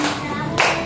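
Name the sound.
hand clapping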